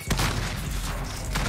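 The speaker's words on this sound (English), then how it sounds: "Throwing frag grenade." A frag grenade going off in an online shooter game, a loud, dense blast with rumbling, sustained roar and a second burst near the end, with no talk over it.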